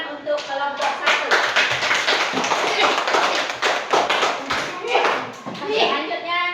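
A class of children claps for a group during a school lesson, a busy patter of small hands that rises and falls, with children's voices chattering over it.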